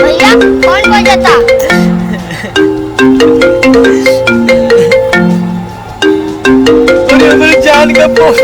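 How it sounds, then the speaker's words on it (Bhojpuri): A mobile phone rings loudly with a bright, repeating melodic ringtone, playing in clear cycles for several seconds with no talk over it. "मेरे जान का फोन आ गया दादा।"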